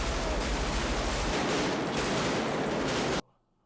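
Full-auto gunfire from a movie scene, a dense and loud stream of rapid shots lasting about three seconds before it abruptly cuts to near silence.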